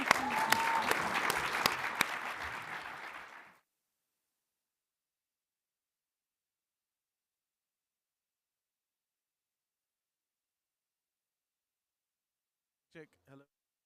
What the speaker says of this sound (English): applause for our panelists